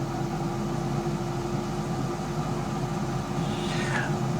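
A Cooks Essentials air fryer runs while cooking salmon fillets, giving a steady, loud fan whir and low motor hum that stays unchanged throughout and is heard alone, with no speech.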